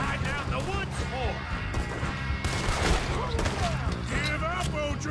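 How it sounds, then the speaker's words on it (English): Gunshots crack and crash through a Red Dead Redemption 2 shootout against the O'Driscolls, scattered blasts under constant shouting voices. "Start shooting."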